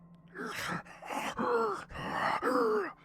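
A voice imitates heavy breathing with four slow, drawn-out, groaning breaths, close and fairly quiet, each separated by brief pauses.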